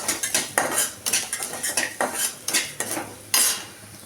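A metal spoon scrapes and clinks in a pan in quick, uneven strokes as cumin, pepper, fenugreek and chana dal dry-roast. The clatter sounds close, with only a faint sizzle and no voices.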